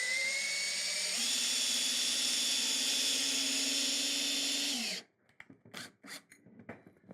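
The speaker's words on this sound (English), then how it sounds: "take yourself a drill, chuck it up in the drill" A power drill whirs steadily as it spins a length of threaded all-thread rod with a hex nut, its pitch stepping up after a second, then cuts off about five seconds in, leaving scattered clicks and handling noises.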